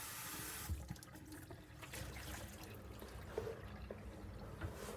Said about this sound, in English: Now we want to moisten the piece completely, especially on the inside, and let it set for a bit.